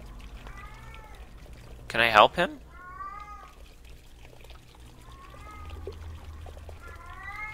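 Repeated plaintive meows from a cat in a horror video game rise and fall across the stretch, moderately loud, with a sharp louder burst and a voice speaking over part of it.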